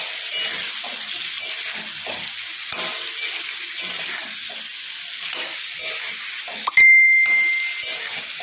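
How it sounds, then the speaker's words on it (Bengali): Elephant foot yam pieces with salt and slit green chillies frying in a pan give a steady, close sizzle with occasional stirring scrapes, followed near the end by a bright metallic ding that rings and fades. "এবার ওলটা খুব ভালো করে ভেজে নেব"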